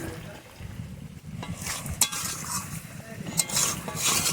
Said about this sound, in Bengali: মুলি মাছটা এইভাবে কষে কষে রান্না করতে হবে, তাড়াহুড়ো করলে হবে না।